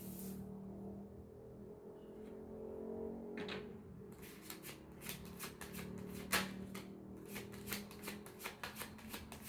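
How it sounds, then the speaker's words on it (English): Tarot cards being handled and laid out, papery rustles and a run of quick crisp card snaps and slaps, close and quiet over a faint low background rumble, no talking. "Let me get all these cards out before I even start to decipher."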